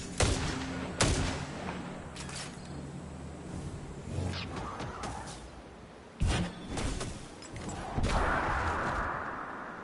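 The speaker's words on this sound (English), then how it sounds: "That's a massive explosion, bro." A massive explosion in the shooter game Destiny booms among repeated heavy blasts and gunfire, several sharp loud impacts with rumbling tails spread over the clip.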